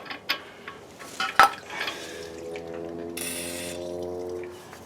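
A ratchet clicks through a few short bursts while tightening the hub assembly nut on a 1997 Dodge Ram, followed by a steadier mechanical whir and hum in a quiet garage.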